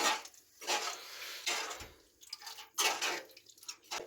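Sour tamarind liquid poured into a pan of frying food, heard as several loud, close bursts of sizzling and splashing separated by brief pauses, with metallic pan clinks and no talking.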